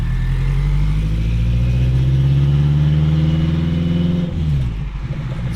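An 800 hp AWD turbocharged Acura RSX Type-S with a triple-disc clutch creeps through traffic, its engine a loud, close, steady drone that sags briefly before settling again.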